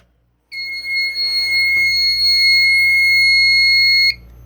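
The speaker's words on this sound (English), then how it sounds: "I'm going to demonstrate the panel going back into an alarm if you don't reset the pull station." A fire alarm panel sounds a loud, steady electronic alarm tone after a pull station is activated, starting abruptly and holding continuously for several seconds before cutting off.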